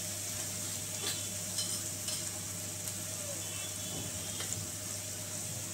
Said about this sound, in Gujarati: જે આપણે ડુંગળી મરચા આદું એકદમ સરસ સંકળાઈ ગયું છે